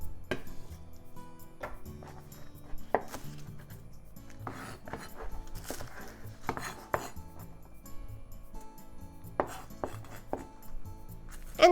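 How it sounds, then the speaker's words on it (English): Knife slicing green onion thinly on a cutting board, a series of crisp irregular taps and knocks, close and fairly quiet, with no voices. "So green onion. Let's just make it into thin slices."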